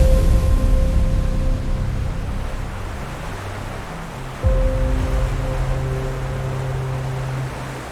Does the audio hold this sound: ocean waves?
yes